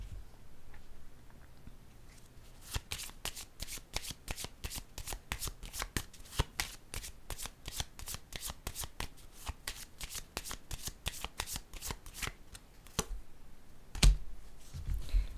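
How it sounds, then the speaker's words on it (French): A deck of wisdom cards is shuffled up close, a long run of quick, crisp riffling flicks at a steady rhythm, fairly quiet and with no talking, ending in a soft thump. "Je vais piger une carte sur la sagesse."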